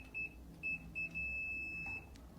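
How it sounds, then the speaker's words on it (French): A multimeter in continuity mode gives several high, thin electronic beeps, short chirps and then a longer sustained tone, faint against quiet room noise. "Quand tu viens sur les bips sonores, normalement ça va faire les bips."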